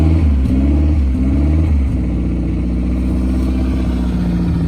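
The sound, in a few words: car engine revving as gas is given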